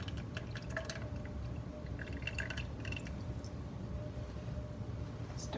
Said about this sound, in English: Pouring down the side of my spatula.